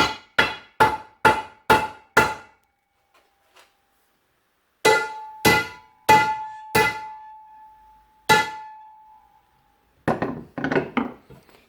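A hammer drives a U-joint bearing cap into place with sharp metallic blows: a quick run of six evenly spaced strikes, a pause, then irregular hits, some with a ringing tone, ending in a cluster of lighter taps.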